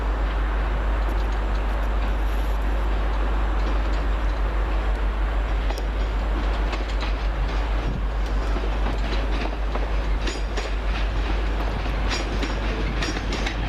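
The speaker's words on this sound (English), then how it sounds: "Next up, the 1508 first Transpennine Express service from Manchester Airport to Edinburgh Waverley." A TransPennine Express Class 185 diesel unit running from Manchester Airport to Edinburgh Waverley, passing near Carlisle with a steady loud rumble of wheels on rail and faint rhythmic clicks over the joints.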